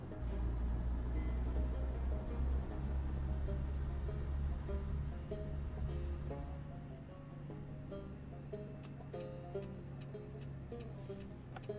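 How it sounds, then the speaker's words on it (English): A struggling truck engine groans and labors in a low, heavy drone with a rumbling undertone, loud and close, easing slightly toward the end, with no talk. "Oh, this poor truck. Sounds like it's dying."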